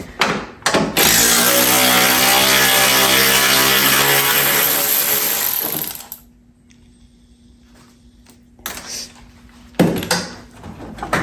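Loud mechanical whirring from work on a Lexus LS400 bumper, sustained for several seconds then cutting off, followed by quieter clicks, clunks and a faint hum, then a few sharp knocks.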